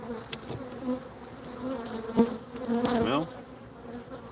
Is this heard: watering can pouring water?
no